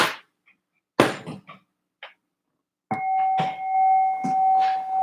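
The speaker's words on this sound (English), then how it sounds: "Let's ring the bell." A bell is rung in a stock-market discussion, giving a few sharp strikes followed by a sustained ringing tone that lasts to the end.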